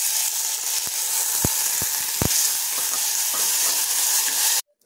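Washed rice tipped into whole spices frying in ghee, a loud steady sizzle with a few stirring knocks against the pan, cutting off abruptly at the end.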